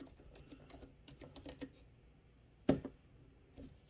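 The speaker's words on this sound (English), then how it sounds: "Put this Razer keyboard to the test." Steady typing on a Razer computer keyboard, a fairly quiet run of close, irregular key clicks with one sharper, louder strike near the end.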